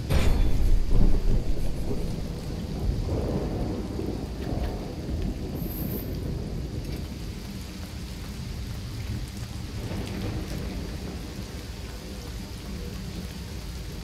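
A thunderstorm rages in the video game Risen 2, with loud rolling thunder over a constant wash of heavy rain that stays dense and unbroken throughout, with no voices.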